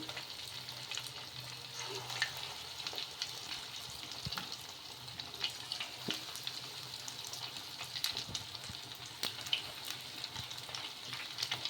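Semiya bondas fry in oil over medium heat, making a steady, close sizzle with scattered sharp crackles and pops throughout.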